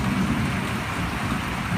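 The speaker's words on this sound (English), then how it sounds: "Listen to that rain." Steady rain falls continuously and fairly loud, a broad even hiss with a low rumbling patter underneath, no voices present.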